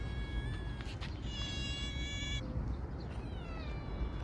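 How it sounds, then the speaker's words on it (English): A cat meows outdoors in Dubai, giving a few thin, high, drawn-out cries over a constant buzzing, insect-like background hiss, with no one speaking. "now, look at this kitty"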